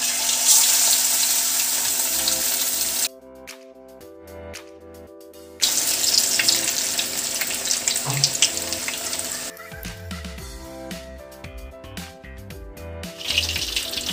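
Pieces of Apollo fish deep frying in hot oil over a medium flame, a bright, steady sizzling hiss that breaks off twice into quieter tonal stretches before returning.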